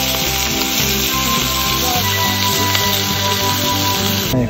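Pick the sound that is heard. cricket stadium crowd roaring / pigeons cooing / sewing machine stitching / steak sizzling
steak sizzling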